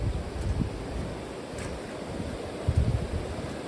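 A rushing flood river swollen by an Arizona monsoon roars steadily nearby, a continuous broadband wash of water with wind buffeting the microphone.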